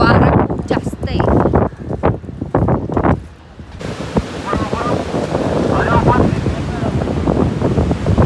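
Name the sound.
strong wind at Calangute beach, Goa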